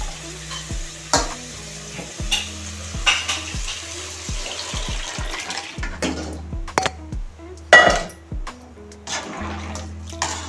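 Mashed cooked lentils pour into a hot frying pan and sizzle, with steady stirring and scraping of a utensil against the pan close by.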